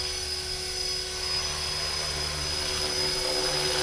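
Blade 330S RC helicopter hovering in safe mode, its rotor and motor giving a steady, high whine with a constant drone that holds level throughout, close by and alone without talk.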